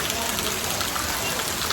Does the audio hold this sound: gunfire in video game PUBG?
no